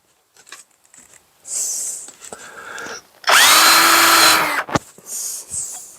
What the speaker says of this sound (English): Go ahead and pre-drill.